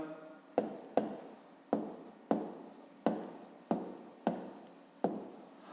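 A pen writes a math exercise in a notebook, a run of evenly spaced strokes and taps that scratch and fade, close and clear, with no voice over them.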